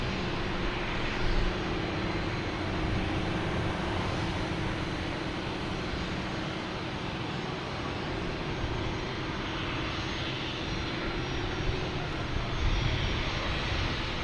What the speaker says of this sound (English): Here's JetBlue coming in from Reagan.